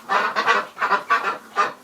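Muscovy ducks call inside a pen, giving five or six loud, close, raspy honking bursts in an uneven rhythm with no talking.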